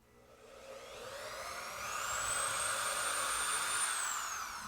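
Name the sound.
power drill drilling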